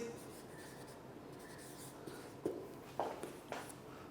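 Chalk or marker writing on a board in a chemistry lecture, a steady soft scratching with a few sharper taps near the end, fairly faint and close, with no talk over it.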